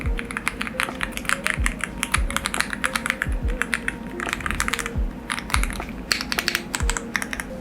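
Rapid, continuous clacking of keys on a mechanical keyboard, with sharper thocks mixed into a steady close-up typing rhythm.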